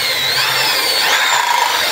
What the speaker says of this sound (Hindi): ये मैं नीचे से ड्रिल मशीन चला रहा हूँ